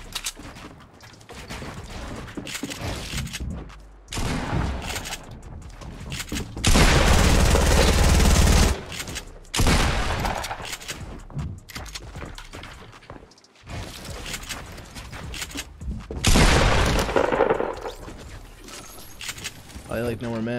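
Fortnite Battle Royale gunfire in a solo match: bursts of rapid shots, with a loud sustained volley in the middle and another near the end, mixed with game effects and a player talking throughout.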